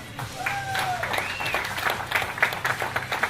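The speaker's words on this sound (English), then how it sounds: "please give a nice round of applause to Battle Cat Cindy Danda" Fans at an Invicta FC 10 MMA official weigh-in applaud a returning fighter with moderate, steady clapping, joined by a couple of rising whistles and scattered cheers at a fair distance.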